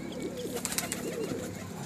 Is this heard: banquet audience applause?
no